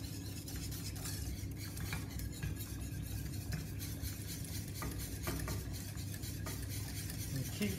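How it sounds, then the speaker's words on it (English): A cheese sauce being whisked in a pan, a soft, continuous scraping and swishing at close range, fairly quiet and without speech. "And keep whisking."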